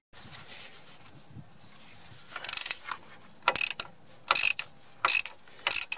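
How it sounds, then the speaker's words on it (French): A spark plug wrench loosens a bolt on a Citroen AX driveshaft, giving bursts of close, sharp ratcheting clicks after a quiet, rustling start, repeating in short strokes. "j'utilise la clé à bougie, ça me donne un peu de longueur, c'est pratique"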